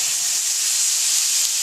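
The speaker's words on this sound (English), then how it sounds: "So we are going to sear this steak now" A bone-in New York strip steak sears in a hot, oiled skillet, giving a steady, close, even sizzle and hiss that holds without a break for the whole moment.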